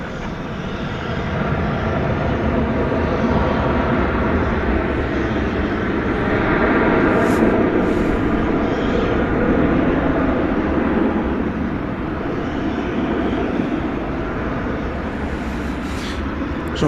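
A jet airliner taking off at DFW Airport at night, a sustained broad roar that swells and holds steady, loud and continuous for the whole stretch.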